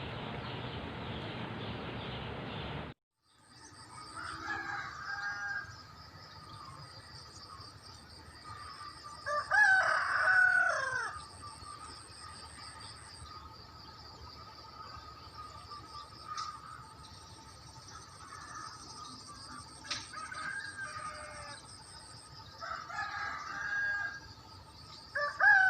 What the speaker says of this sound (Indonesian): Bangunkan semua ayam-ayam sekarang agar mereka semua berkokok.